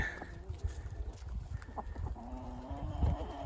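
Free-ranging hens clucking in short, scattered calls over a soft outdoor background, fairly close by.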